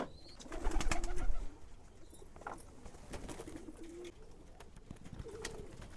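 A pigeon bathing in water, soft low cooing phrases repeating every second or two alongside brief splashing and fluttering, fairly faint and close.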